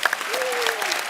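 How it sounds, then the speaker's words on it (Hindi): Studio audience applause on a comedy talk show with a voice speaking over it, steady clapping throughout a short moment. "उसके लिए तालियां"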